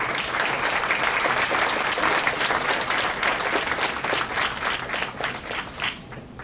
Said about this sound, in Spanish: yo quiero pedir un fuerte aplauso para estos excelentísimos embajadores presentes aquí.